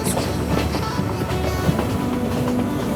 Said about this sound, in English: The train slowly started going via this beautiful hill country.